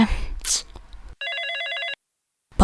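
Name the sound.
phone ringing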